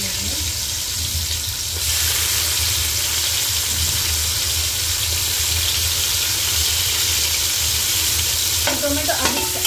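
Tomatoes frying in oil for prawn biryani, a steady loud sizzle with occasional stirring scrapes near the end.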